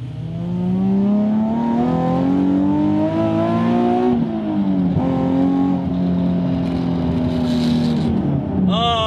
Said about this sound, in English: So this here is the full PPE long tube Greddy Evo GT catback exhaust setup paired together.